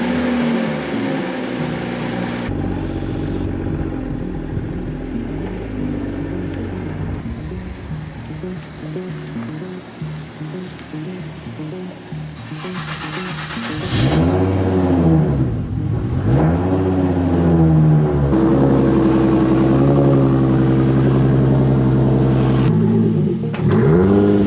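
A car engine idles and rumbles, then revs hard several times with rising and falling pitch, loud and close, with no talking.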